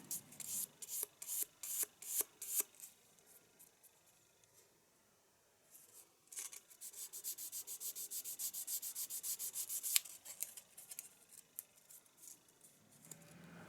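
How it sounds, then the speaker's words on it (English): Sandpaper rubs over a carved wooden goldfinch to bring out highlights on the upper beak, first in quick rhythmic strokes, then a pause, then steadier continuous scratchy sanding, faint and close. "I also used the sandpaper to highlight the upper beak."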